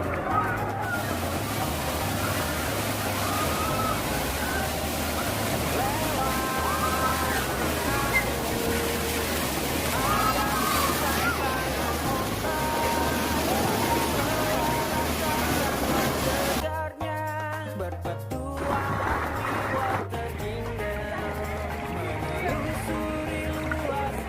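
Water sloshes and splashes steadily in a water park wave pool at Water Kingdom Mekarsari, a broad continuous wash mixed with background music and crowd noise.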